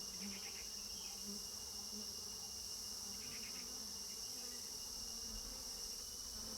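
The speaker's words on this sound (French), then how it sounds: "Ici et là, des abeilles ouvrières sont à l'œuvre" Soft, steady buzzing of worker honeybees close by, a continuous drone with faint insect hum layered underneath.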